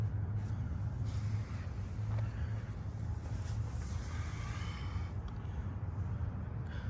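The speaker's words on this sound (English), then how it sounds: "Exhaust looks and sounds very nice." A 1999 Pontiac Firebird Trans Am idles with a steady low exhaust rumble, constant and moderately loud throughout, with light wind noise over the microphone.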